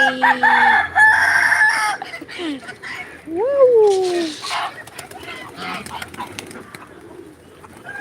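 Chickens clucking and squawking nearby, with a rooster-like crow rising in the middle, several birds calling over a quiet yard.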